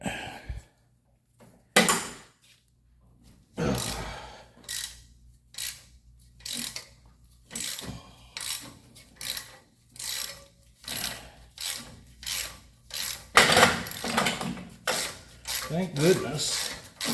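A wrench loosens the engine fan bolts on a 1971 Chevelle small block 350, giving repeated close ratcheting clicks in short regular bursts with brief pauses between strokes.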